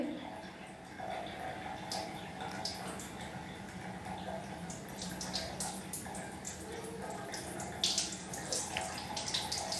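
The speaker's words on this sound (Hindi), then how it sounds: "अब हमें फिर से गर्म पानी डालना है 3 मिनट के लिए।" Hot water pours and splashes steadily for several seconds over wrapped knees, a continuous trickling stream with faint clinks, fairly quiet and close.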